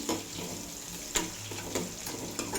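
Ingredients for gongura pappu frying in very hot oil in a pan, a steady sizzling hiss with a few soft clinks of stirring, close and fairly quiet.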